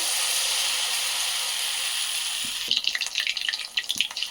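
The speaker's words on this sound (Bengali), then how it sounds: "এইভাবে আস্তে আস্তে করে ভেজে নিতে হবে" Loitta fish pakoras coated in gram flour batter frying in white oil in a kadai over a low flame, a dense steady hiss that turns into irregular bubbling crackles after the pieces go in, close by with no talking.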